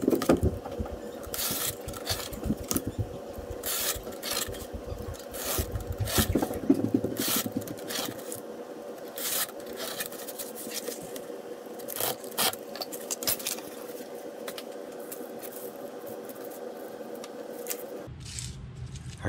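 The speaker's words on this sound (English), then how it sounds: "next we're going to cut out some strips and cardboard panels to construct the arm and the stand" Cardboard strips and panels being cut for a hydraulic crane STEM model, heard as a run of close, dry scraping strokes and snips that come in uneven bursts, ending with a short quiet stretch.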